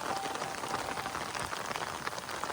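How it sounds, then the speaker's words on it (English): Heavy rain driven by strong wind on a Bangladeshi farm, a dense, steady roar of drops close by with no pause and no voices. "a heavy downpour approaches from the north, pushed by strong winds"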